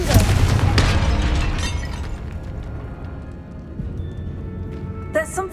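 A Confringo blasting spell fires in the Hogwarts Legacy video game, a loud shattering burst at the start that fades into a rumbling decay, with a second bright crackle near the end.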